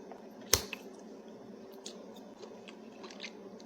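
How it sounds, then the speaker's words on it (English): Crunchy fried cabbage chewed close to the mic, with one sharp crisp bite followed by softer, irregular crunches and chewing under a steady low background hum. "And I love crunchy pieces of cabbage."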